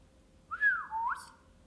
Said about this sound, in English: That was a bad whistle.